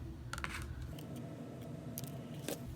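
Fabric triangles are cut for a paper pieced pineapple quilt block, with a few crisp close snips and small taps over a low steady background hum.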